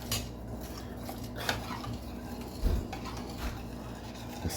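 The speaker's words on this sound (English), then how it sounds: "let's stir this around." Spoon scraping and clinking around a pot of pumpkin soup, several soft metallic knocks and stirring scrapes over a steady low background hum.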